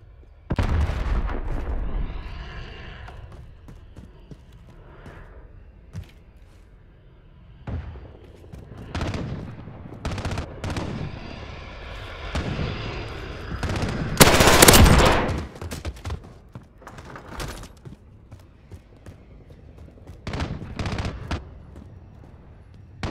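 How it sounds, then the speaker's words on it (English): Automated sentry gun in Call of Duty: Modern Warfare firing loud, rapid bursts of machine-gun fire mixed with heavier blasts and explosions, several bursts spread across the stretch with a peak midway and brief lulls between. "Enemy sentry gun active."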